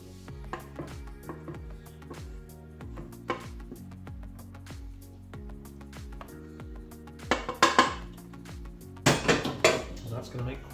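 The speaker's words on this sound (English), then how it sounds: "Just scrape the rest out of the bowl." Cream cheese curds being scraped from a bowl into a sieve make a run of clinking, scraping utensil-on-bowl sounds with sharper clatters toward the end, mixed with faint background music.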